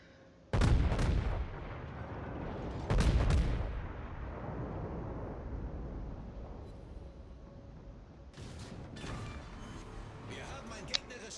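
Heavy battleship gunfire in a naval video game: two booming salvos close together near the start, their rumble rolling out and decaying, then a further cluster of sharper shots near the end.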